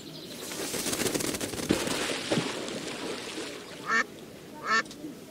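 Ducks quack in the Secret Files 2 adventure game, two short loud quacks standing out near the end over a busy, noisy ambient background.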